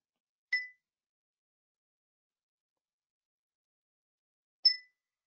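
Two separate clear bell chimes, about four seconds apart, ring out in a quiet room to open a mindfulness-of-breath meditation session; each strike is bright and short with a quick decay into silence.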